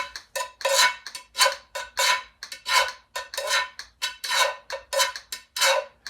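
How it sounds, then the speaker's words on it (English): A fork scrapes rhythmically across the ridges of a pot played like a guiro, a regular series of about fifteen bright, rasping strokes in a steady pattern, close and clear with no talk. "So that scraping sound, the thing that gives that ridge sound, is in the pot."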